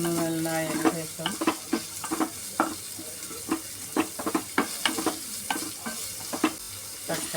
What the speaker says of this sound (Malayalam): ജിഞ്ചർ ഗാർലിക് പേസ്റ്റ് മൂത്ത് വരുമ്പോൾ അതിലേക്ക് കുറച്ച് ഉള്ളി ഇടുക